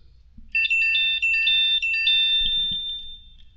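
A phone message notification ringtone plays as a bright chiming electronic melody of rapid repeated tones, clear and alone over quiet background, lasting about three seconds.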